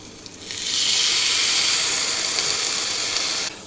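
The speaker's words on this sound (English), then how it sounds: "The steam coming out of the waffle irons is starting to slow down" Ketchup chaffles cooking in waffle irons, a loud steady hiss of escaping steam and sizzle that swells in after a half second and cuts off sharply near the end.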